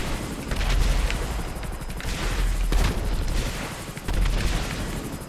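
An FH1 Hunter Killer attack helicopter in a video game unleashes a held-down missile barrage of dumbfire rockets, a dense, loud run of overlapping blasts and booms rolling on continuously with a few heavier surges.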